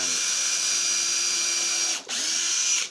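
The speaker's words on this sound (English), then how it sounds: "running the screws into it to hold it in place" A power drill drives screws into a wooden tool tote with box joints, a loud sustained whine that briefly cuts out and spins up again.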